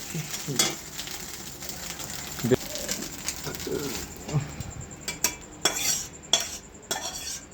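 Chow mein being cooked and stirred in a home kitchen, heard as scraping and clattering of a utensil against the pan, with intermittent close taps and clinks and a voice talking over it at moments.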